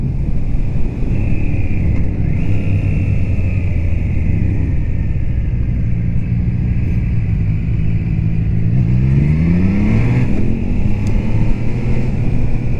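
A Triumph Trident 660 motorcycle riding on a road, its engine a steady loud drone throughout, climbing through a brief rev rise near the end, with wind rumble over the ride.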